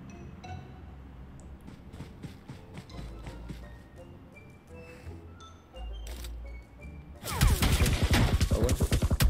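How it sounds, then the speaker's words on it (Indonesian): Game gunfire in PUBG Mobile: scattered shots and clinks through the first seconds, then a loud, rapid burst of automatic fire near the end, close and dominant. "Dia nembakin gue."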